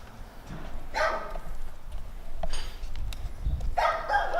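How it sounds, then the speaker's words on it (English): A small dog barks a few sharp, high yips spaced apart at a moderate distance, over steady outdoor background noise. "The little dog come out here, bark at you"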